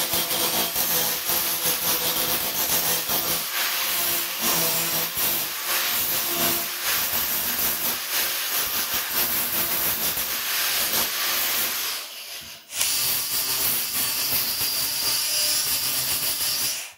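Welding on the wing of a Ford Escort MK1, a loud, continuous crackling hiss held close for most of the stretch, breaking off briefly near the end before resuming.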